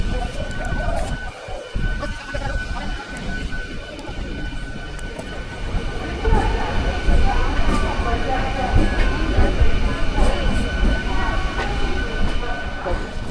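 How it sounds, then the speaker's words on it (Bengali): Bardhaman local train on the Hooghly line in West Bengal, heard from inside a carriage while running: a steady, loud rumble and rattle of wheels with occasional clicks, swelling stronger after a few seconds, with voices murmuring in the background. "আমরা ট্রেনে বসে গেছি, ট্রেন ছেড়ে দিয়েছে।"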